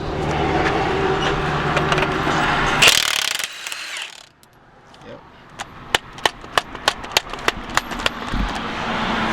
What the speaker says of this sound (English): put the socket on there and break that sucker loose